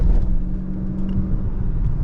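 A 2023 Dodge Charger Scat Pack Widebody Last Call accelerating, heard from inside the car as a steady, loud low engine rumble with a faint whir, and no talking.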